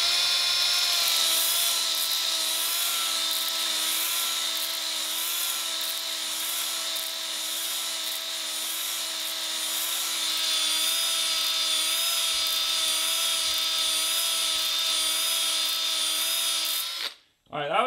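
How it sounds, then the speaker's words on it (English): A power drill runs steadily into a seized piston in an engine block, a loud, sustained whine that holds for about sixteen seconds before cutting off abruptly near the end. "Drilling!"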